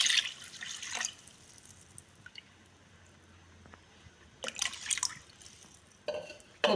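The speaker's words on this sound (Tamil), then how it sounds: "ஸோ மீதிக்கு நான் வந்து தண்ணி ஆட் பண்ணிக்கிறேன்" Water is poured into a pot of rice for yellow rice, giving drips and splashing pours in two bursts separated by a quiet stretch, close and moderately loud.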